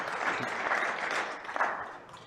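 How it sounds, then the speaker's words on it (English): A round of audience applause at a professional 10-ball pool match in a tournament arena, many hands clapping together in a steady, full burst that eases slightly toward the end. "there's a much louder round of applause when Chris Reinhold wins a rack"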